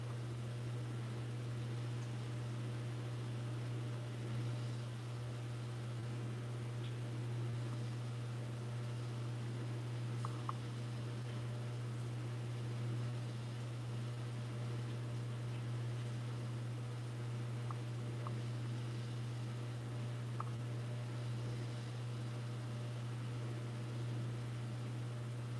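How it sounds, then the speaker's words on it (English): A dishwasher runs in the background of a home room as a steady low hum and hiss that does not change for the whole stretch. A few faint clicks sit on top of it, and no one speaks. "if you hear noise in the background, that is my dishwasher"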